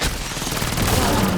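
Fireworks weapon firing in Black Ops 7 Zombies, a dense, continuous burst of rapid explosive pops and booms running steadily throughout at high loudness.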